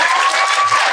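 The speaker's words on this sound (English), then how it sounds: "Let's clap it up for B." A live audience breaks into steady, dense applause, a close wash of clapping hands that holds evenly for a moment without talk over it.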